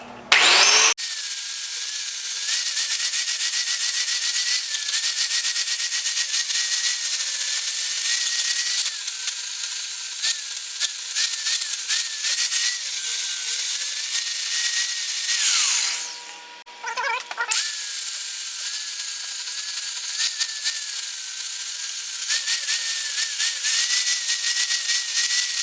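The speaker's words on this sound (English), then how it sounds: "So now you just got to grind away right down to your line." Grinding a fabricated metal muffler flange down to a marked line, a loud continuous high-pitched grinder whine close up, briefly dipping as the tool eases off the metal midway before resuming steadily.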